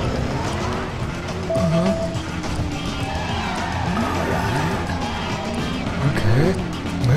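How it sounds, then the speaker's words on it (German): A car in Driver San Francisco accelerating hard, its engine roaring steadily while tires squeal in repeated rising chirps, loud and close throughout, with someone talking faintly underneath. "der hat natürlich einen ganz guten Bums, der Wagen, der zieht richtig gut ab"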